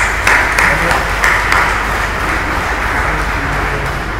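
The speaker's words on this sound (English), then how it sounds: "Give yourselves a round of applause." A graduation audience in a college ceremony hall claps steadily for about four seconds, a dense, even wash of applause with a few sharper claps early on.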